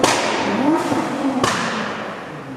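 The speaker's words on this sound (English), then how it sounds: "let's see how loud this pop and bang is inside the Dartford Tunnel" A Nissan GT-R's exhaust pops and bangs inside the Dartford Tunnel, two sharp cracks over a loud, echoing roar of engine and road noise.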